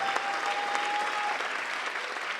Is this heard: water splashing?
no